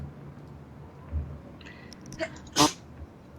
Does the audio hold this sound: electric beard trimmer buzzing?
no